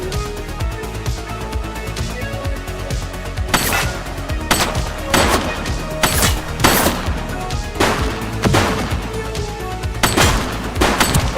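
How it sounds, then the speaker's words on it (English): Gunfire in the police game The Precinct, repeated sharp shots cracking at irregular intervals over a dense, constant bed of game music and ambience. "Shots fired!"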